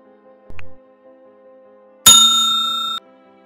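A notification bell sound effect plays: a short soft tap, then one bright, clear ding that rings on for about a second before cutting off.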